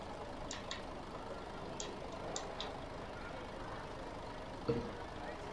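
Low, steady engine drone from a bus in Euro Truck Simulator 2 with a mod installed. Faint ticking clicks sit over the rumble, and a short bump comes near the end.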